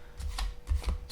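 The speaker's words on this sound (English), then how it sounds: "let me just shuffle the cards a little more" Tarot cards are shuffled close up in two quick riffling bursts, soft and papery, with no talking.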